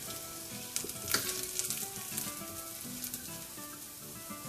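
Steel cut oats cooking in a pan on the stove, giving a soft steady sizzle with occasional light scrapes and taps from stirring, faint and close, no voices.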